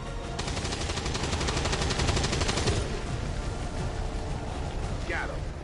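Soldiers in XCOM 2 fire a rapid burst of automatic gunfire that hammers for a few seconds and then gives way to lingering battle noise. A voice comes in near the end.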